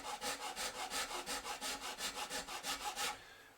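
A file rasps back and forth in the nut slot of a 2022 Torino Green Gretsch Streamliner semi-hollowbody electric guitar, about a dozen quick, even strokes up close with no talking.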